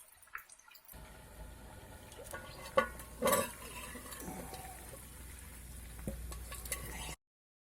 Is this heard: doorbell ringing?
no